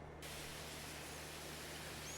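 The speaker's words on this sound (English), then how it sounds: "we spray this side" A crop sprayer spraying a field in a farming video game, heard as an even, continuous hiss of spray that carries on steadily throughout.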